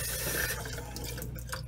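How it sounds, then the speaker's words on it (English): Water pours steadily into a small aquarium container, a continuous close splashing and trickling with a faint low hum beneath and no talking. "Now I would recommend using aquarium water to do this, to fill in there."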